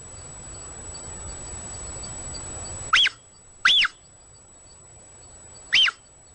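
A puma makes its soft, happy chirping calls: three short, high, birdlike chirps, the first two close together and the third after a pause, heard clearly over a faint background hiss.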